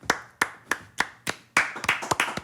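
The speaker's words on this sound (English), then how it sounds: "Why are we clapping?" Several people clapping hands indoors, a handful of sharp single claps spaced evenly, then a quicker, denser burst of overlapping claps, close and fairly quiet.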